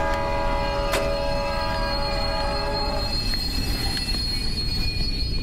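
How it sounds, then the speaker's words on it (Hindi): A train in a haunted train video game screeches as it brakes to a stop, a loud sustained metallic wheel squeal over a steady rumbling roar, fading partway through while the rumble continues. "ट्रेन अपने आप रुक गई क्या?"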